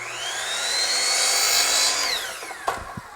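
A power saw cuts through crown molding held in a jig, a loud steady whine running for about two seconds before winding down, followed by a few faint knocks.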